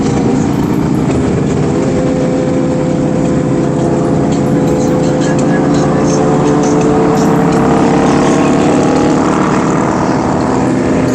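Kawasaki Ninja ZX6R sport motorcycle engine droning loud and close at high revs for the whole stretch, a steady dense roar with wind rush, no one talking.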